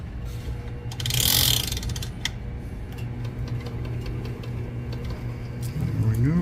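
A fishing reel ratchets and clicks as line is spooled onto it, a fast mechanical chatter running steadily at close range with small bursts and a rising whir near the end.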